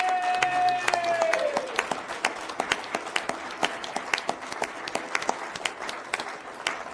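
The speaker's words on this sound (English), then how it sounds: "Round of applause for our candidate." A senate debate audience applauds a candidate, with a burst of crowd clapping and a few cheers rising at the start, then settling into a thinner patter of individual claps that carries on steadily.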